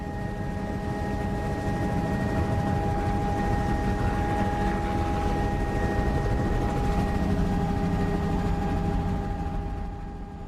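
Steady, loud rotor and engine drone of a helicopter in flight over jungle, continuous throughout with a constant low throbbing roar.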